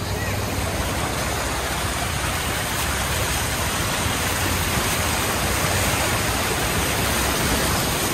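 Steady, rushing roar of floodwater after a day of continuous rain, flowing along a road turned into a river in a residential neighbourhood, dense and loud throughout with no pauses.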